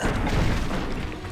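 A Confringo blasting curse explodes in the video game Hogwarts Legacy, a short, dense booming burst that fills the whole moment and then fades slightly, with no voice over it.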